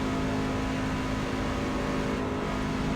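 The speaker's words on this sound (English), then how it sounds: "a little bit of damage on the left front of this truck cruising around here." Racing truck in a racing video game, a steady engine drone with a constant tonal whine, cruising at even speed without clear revving, continuous and fairly loud.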